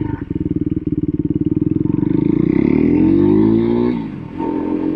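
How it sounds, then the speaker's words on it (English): A Husqvarna Svartpilen 401 motorcycle engine pulses rapidly and steadily as the bike rides around in a tight circle, its note rising and climbing in pitch before easing off near the end; loud and close, with no talk. "Just spins around in a circle with no trouble at all."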